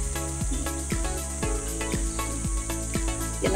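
Crickets chirping in a quiet city family park in Valenzuela, a regular pulsing of sharp chirps roughly every half second over a steady high insect drone, close and alone with no talk.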